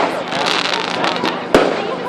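Bonfire night fireworks crackle and fizz continuously outdoors, with one sharp bang near the end, while people talk nearby.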